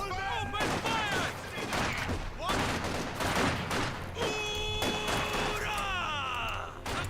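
Infantry gunfire from Company of Heroes 2 crackles in dense, overlapping bursts, a fusillade of rifle and machine-gun shots that keeps going the whole time while soldiers' voices shout over it.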